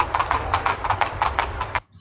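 Horse hooves clip-clopping in a steady, brisk rhythm as a horse pulls a bendi cart, close and clear, stopping abruptly near the end.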